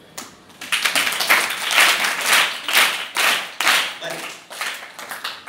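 Applause for a student at a school quiz program: a short burst of many hands clapping at moderate distance, swelling quickly and tapering off in uneven waves over several seconds.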